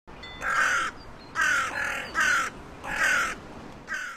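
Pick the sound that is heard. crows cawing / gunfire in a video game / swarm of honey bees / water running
crows cawing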